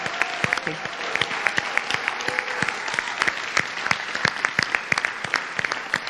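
Audience clapping at a political candidates' launch event, steady sustained applause from a crowd with sharp individual claps, a voice heard faintly over it.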